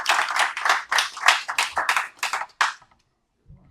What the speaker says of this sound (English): One more applause.